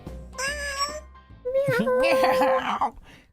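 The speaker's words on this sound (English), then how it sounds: "you didn't care about that meow" A kitty cat meows close by in a tiny house on the Canadian prairies during winter, a short tonal call followed by a longer, louder wavering meow, with faint music behind.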